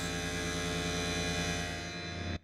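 Sustained electronic tones from a miRack modular synthesizer patch on an iPad hold a dense, steady drone with stacked harmonics for about two seconds, then cut off abruptly near the end.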